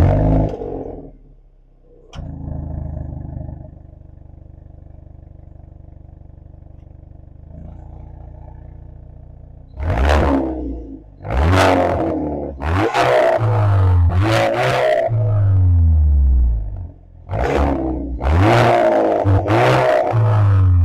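Hyundai i30 N Performance hatchback engine idling low and steady, then blipped into a string of loud, close revs that surge and drop in quick bursts, with no talking.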